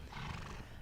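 A horse at Bayfield Farms in Oxford gives a short, loud, close whinny that fills a brief moment without any talk over it.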